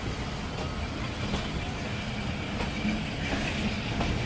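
Awam Express train rolling past a level crossing in Pakistan, a steady loud rumble of wheels on rails with faint clicking of wagons, continuous and close throughout.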